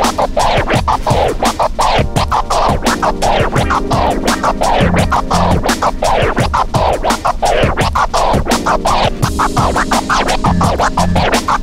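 Rapid two-click flare scratches on a DJ controller jog wheel cut rhythmically over a steady, loud beat, with quick stuttering chirps throughout.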